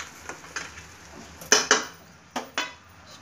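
Avalakki (flattened rice) being served onto a plate, with a few sharp metal utensil clinks and scrapes in quick, separate bursts at close range, without any talking.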